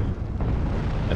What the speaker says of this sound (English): Tornado coming in with the HE bombs.